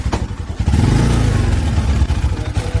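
A motorcycle engine runs close and loud on a ride between Beni and Tatopani in Myagdi, a rough low throb that swells after a brief quiet start, with some clatter along the way.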